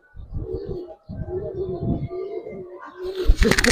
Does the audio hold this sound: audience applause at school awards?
no